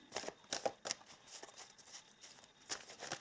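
Oracle cards are shuffled and handled in a quiet room, with soft, close riffles and flicks arriving in short irregular bursts, faint and crisp with brief pauses between.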